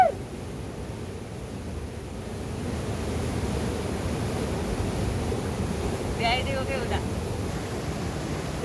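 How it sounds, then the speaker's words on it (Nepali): A monsoon-swollen river in Nepal rushes past in a steady, broadband roar, close and continuous throughout, with no voices over the flowing water. "यो पूर्तिबाङतिर बगिरहेको खोलाको सिन देखाइरहेको छु मैले अहिले."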